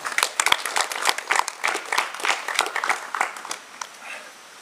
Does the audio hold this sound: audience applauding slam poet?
yes